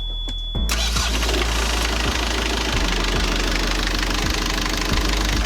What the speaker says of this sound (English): Engine started right up, the antifreeze cycled through, and now the ocean water is cooling the engine.